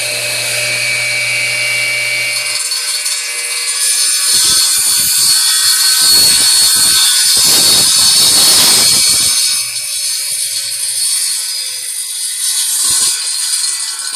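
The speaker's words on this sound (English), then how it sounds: "I'm going to run the saw for a second" A radial arm saw runs with a high motor whine, then bites through bamboo in several rough, gritty bursts in the middle before spinning down, loud and close.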